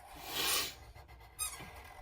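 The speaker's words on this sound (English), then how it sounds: "Now he's squeaking a toy." A squeaky toy is squeezed twice, a high airy squeal followed by a shorter second squeak, faint and close with no talking.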